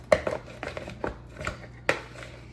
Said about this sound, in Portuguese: Enquanto eu tô mexendo, ela tá começando a se soltar.